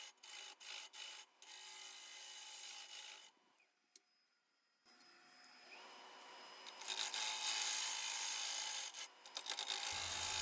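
A lathe tool hollows out a wooden bowl turned from a live-edge branch, with a steady scraping rasp that breaks off into near silence midway, then resumes louder and continuous.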